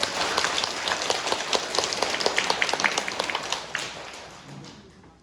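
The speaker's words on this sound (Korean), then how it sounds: "오늘 함께해 주신 나기순 부도직 고신부님 환영의 박수 부탁드립니다" Welcoming applause from a church congregation for a visiting priest during a 50th-anniversary parish Mass, a moderate round of scattered individual claps that thins and fades out toward the end.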